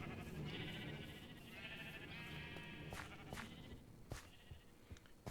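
Several Minecraft sheep bleating in a farm pen, wavering calls layered over a busy background of other game sounds and clicks, at moderate volume.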